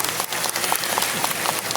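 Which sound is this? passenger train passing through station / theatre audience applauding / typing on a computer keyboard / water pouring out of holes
theatre audience applauding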